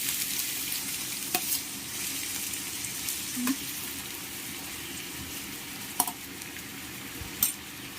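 Chopped onion fries in hot coconut oil with a constant close sizzle, punctuated by occasional light clicks and scrapes of a spoon stirring in the pan.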